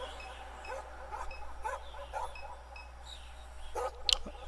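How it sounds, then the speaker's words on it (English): A dog in the point-and-click video game Norco gives a few short yips and barks, spaced out over a low, steady background hum, with a sharper bark near the end. "The dog sounds good, huh?"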